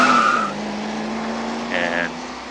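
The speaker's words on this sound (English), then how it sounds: "those tire squeals were ridiculous" A tire squeal sound effect made for a film car, meant as a vicious-sounding 1968 Chevy Impala: two short high squeals, one at the start and another near the end, over a steady low engine hum.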